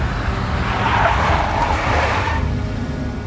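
A big black Mercedes skids in the Max Payne video game, tires screeching in a loud drawn-out squeal over a roaring engine, fading slightly toward the end.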